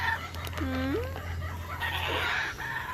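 A bird calls once outdoors with a drawn-out, rising cry resembling a rooster's crow, over a steady low hum and faint background noise.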